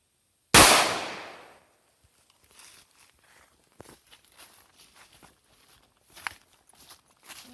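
A single sharp, loud handgun shot fired at a target 7 yards away, ringing off quickly, followed by quiet shuffling and small handling noises.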